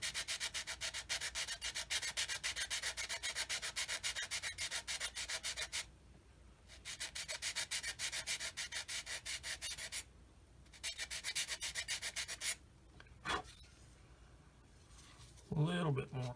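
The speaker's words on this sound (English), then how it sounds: "This is the larger size Infinity sanding stick. And I'm just going to do this." A 220-grit Infinity sanding stick rubs back and forth on a 1/35 CMK VW Type 825 pickup scale model, steady rapid scratchy strokes in long bursts separated by short pauses, with brief handling clicks at the end.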